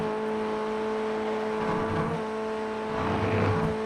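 A Ray FF1600 race car engine in iRacing holds a steady, high-pitched drone at full throttle around Virginia International Raceway, loud and continuous with no talking.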